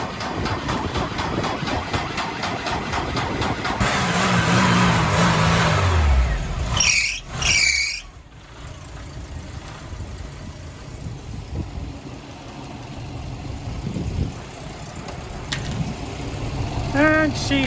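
A Golf car's engine cranks and catches after a jump start, then revs up loudly and settles, with people talking nearby and clunks around the running engine.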